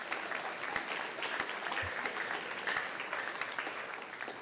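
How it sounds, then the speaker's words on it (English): Indoor crowd at a middle and high school VEX robotics competition gives sustained applause for the competing teams, a dense steady clapping throughout with a few louder individual claps. "Let's give all of our teams a round of applause"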